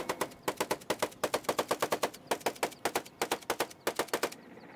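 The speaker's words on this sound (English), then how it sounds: "The gunner fires at pop-up targets." A door gunner aboard a military helicopter fires a machine gun at pop-up targets during a training run. The weapon sounds in repeated tight bursts of rapid, loud, crisp shots with brief pauses between strings.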